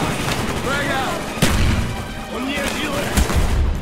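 A grenade explodes amid a battle in the shooter Call of Duty Black Ops, one sharp booming blast standing out over constant gunfire, with voices talking through the din.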